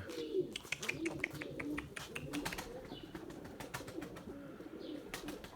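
Pigeons feeding on the ground coo softly in low, rolling calls, faint and close, mixed with sharp pecking taps and a few light chirps.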